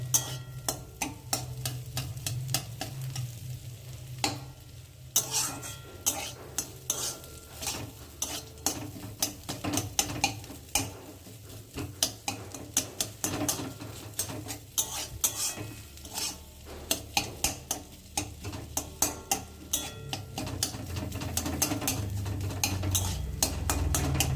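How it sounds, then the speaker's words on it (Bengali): A spatula scrapes and clatters steadily against a pan as bitter gourd frying with fish roe is stirred, with rapid metallic ticks over a soft continuous sizzle, close and busy throughout. "উচ্ছের মধ্যে ডিমগুলো ঢেলে দিয়েছি, এবার নাড়িয়ে চাড়িয়ে একটু ভাজতে দেবো"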